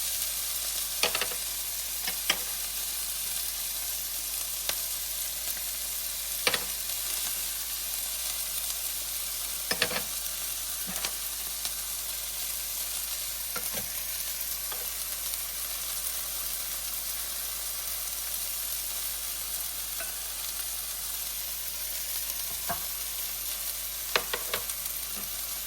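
Onions and spices sauteing in a pan for an okra dish give a steady, even sizzle throughout, broken by occasional sharp clicks and taps of stirring, with no talking.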